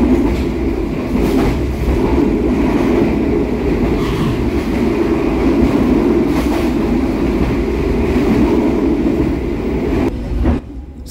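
Kaligung passenger train hauled by a vintage locomotive runs steadily on rails, a loud continuous rumble and rattle from inside the carriage with faint wheel clatter, easing slightly near the end.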